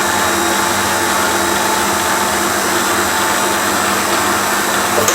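An electric mixer whips cream for tiramisu, a loud steady whirring drone that holds unbroken from start to finish with no voices.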